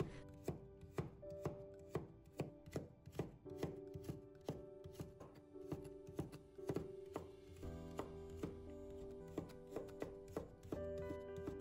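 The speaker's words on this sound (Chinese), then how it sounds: "再切成胡萝卜丝，" A knife chops half a carrot on a cutting board, first into thick slices, then strips, then small dice, with crisp, close, rhythmic blade strikes in quick bursts and brief pauses between runs.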